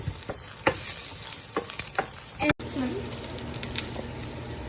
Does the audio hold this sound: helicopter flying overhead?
no